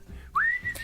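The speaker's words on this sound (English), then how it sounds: "Old man whistle. Old man whistle." A man whistles an old man warble: one short, bright rising whistle that holds briefly, heard close and alone.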